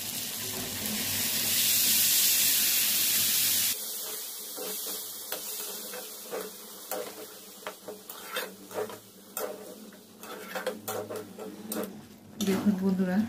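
Potatoes frying in a pan sizzle loudly and steadily, then the cooking water from boiled peas goes in and the frying quiets to a softer, uneven crackle while a person talks over it.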